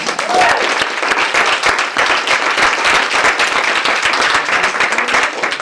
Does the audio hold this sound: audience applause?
yes